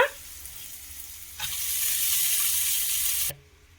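Leafy greens drop into a hot pan for a spiced greens stir-fry, erupting into a loud, steady sizzle that holds for about two seconds before cutting off abruptly.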